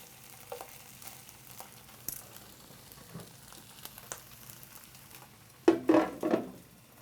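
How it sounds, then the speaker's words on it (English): Sausages cut open sizzle on a hot skillet over high heat, a quiet steady frying hiss broken by a few light clicks and taps, then a louder burst of sizzling and clatter near the end. "let's cut them open and put them straight onto the skillet on a high heat"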